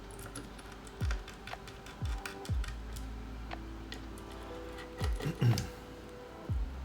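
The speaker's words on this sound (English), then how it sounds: "The other keyboard sounds amazing." Polycarbonate mechanical keyboard being typed on, scattered clicky keystrokes in small clusters with low thocky bottom-outs, fairly quiet and close, no one speaking.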